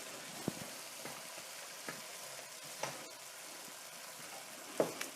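Mushrooms stirred into softened onions in a frying pan, with a steady close sizzle and a few soft scrapes and knocks of the spoon at irregular intervals.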